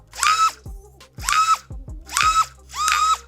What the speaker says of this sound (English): So now that is on normal mode where everything spins up from a dead stop.